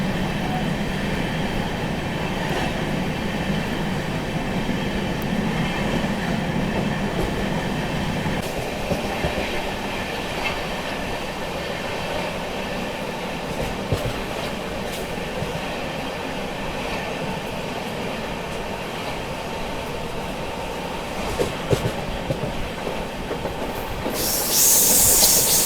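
A train runs through the steep Kasara ghat section with banker locomotives attached, giving a steady, loud rumble and rolling wheel clatter that holds for the whole stretch, with no talk.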